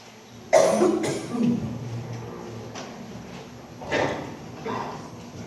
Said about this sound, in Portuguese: vocês me perdoem, eu tossi